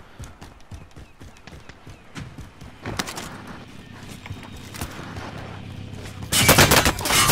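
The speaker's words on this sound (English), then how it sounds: "I'm getting shot from living quarters." Gunfire in a Call of Duty Resurgence-style battle royale shootout, with sporadic shots and bursts scattered throughout, building to a loud, dense volley near the end.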